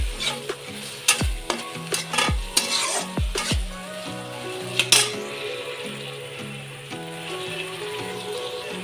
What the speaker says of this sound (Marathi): तर इथे टोमॅटो सुद्धा आपला घातला आहे. मी चांगला हलवून घेते.